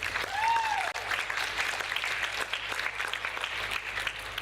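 An audience at the opening of a 2013 small-business expo breaks into warm applause, a dense, sustained patter of many hands clapping with a brief whistle-like tone near the start.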